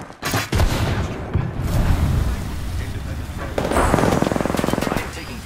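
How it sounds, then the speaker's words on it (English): Loud, close gunfire from the video game Apex Legends comes in dense, rapid bursts that run almost continuously, with a heavier volley toward the end. "I'm taking fire, friends."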